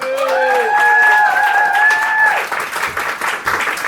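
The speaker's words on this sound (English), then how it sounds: "round of applause for all of tonight's performers" An audience applauds the performers at a cabaret night, with loud clapping and cheering that swells early and then thins into scattered claps and murmurs.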